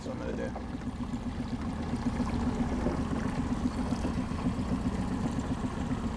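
A boat motor drones steadily at a low idle throughout on Lake Cachuma during trout fishing, with water noise around it and no pauses.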